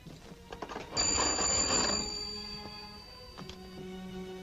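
Old telephone bell ringing in a 1937 serial, a bright sustained metallic jangle that cuts off, followed by a click and quieter room tone.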